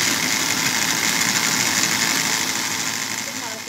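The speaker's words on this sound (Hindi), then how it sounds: "अब हम इसको करेंगे ग्राइंड।" A kitchen blender whirs continuously while grinding mango and milk into a milkshake, a loud steady motor drone that eases off slightly near the end.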